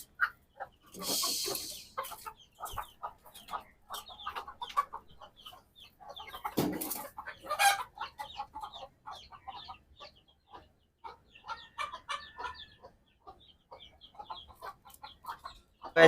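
Several chickens clucking close by in irregular bursts around a poultry cage, with scattered rustling and occasional louder squawks.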